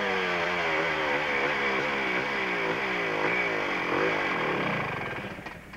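A motorcycle climbing a steep hill at a hill climb event, its engine loud and close, revving high in rising and falling sweeps before fading slightly at the end.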